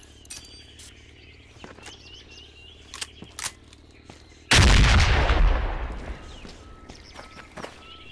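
Gunfire in a jungle-set shooter video game: one loud, close burst of a shot with a long rumbling decay, set among sparse game ambience and faint bird calls.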